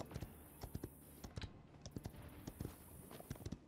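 Hooves of a horse mount in the video game Paladins, a brisk clip-clop of close, crisp beats in uneven rhythm, quiet and with no one speaking.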